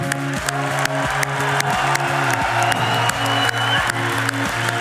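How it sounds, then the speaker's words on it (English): A hall audience applauds the graduates at a university MSc graduation ceremony. The clapping is partly masked by loud, stepwise instrumental music playing over it. "Give them all one more round of applause"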